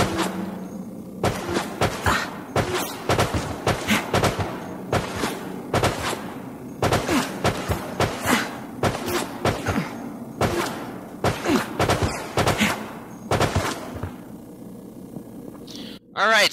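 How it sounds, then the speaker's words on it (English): Submachine gun fire in Resident Evil: Operation Raccoon City, loud rapid bursts of shots in repeated clusters with short pauses between them over a steady game background, ending in a brief thud. "let's test the submachine gun on a human player"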